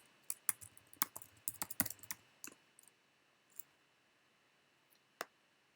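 Bursts of quick keystrokes on a computer keyboard as numbers are typed in, close and crisp, thick at first and then thinning to a few lone clicks with pauses, no speech.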